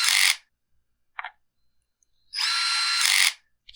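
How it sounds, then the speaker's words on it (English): Short bursts of a small powered driver tightening screws on the carburetor of a Husqvarna 435 chainsaw, one long burst, a brief blip, then another long whir, close and alone. "And I won't tighten these down until I get all three screws in."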